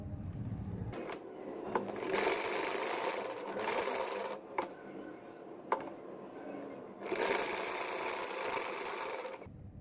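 Sewing machine stitching a boat-shaped neck design on a garment, running in several loud bursts of rapid stitching separated by brief stops and clicks.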